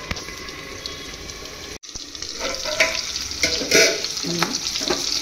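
Fish frying in a pan for a fish curry, a moderate sizzle and crackle with a brief dropout, then louder bubbling spatters and stirring, no talk.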